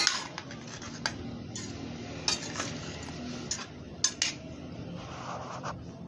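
Spoon stirring coconut milk into a beef casserole in a pot, scraping steadily with scattered clinks against the metal, close and fairly soft, with no voices.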